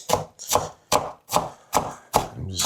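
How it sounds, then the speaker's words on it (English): Six evenly spaced, sharp knife chops strike a cutting board at a steady rhythm, close and loud with no talking. "I'm just chopping that up."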